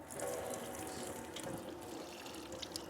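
Water trickles steadily from the shower wand of a portable propane camping water heater whose stop valve never fully closes, a close, continuous hiss and splash with no talking.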